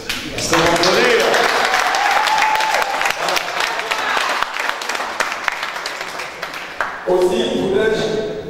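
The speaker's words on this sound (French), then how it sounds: "Est-ce qu'on va applaudir?" Guests at a civil wedding ceremony break into loud applause, a dense spread of clapping mixed with crowd noise and voices calling out, ending as a voice resumes speaking near the close.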